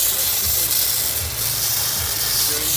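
Steady broadband hiss of a steam plasma cutting machine building up steam pressure, a continuous close rushing sound with faint low rumble underneath and no talk.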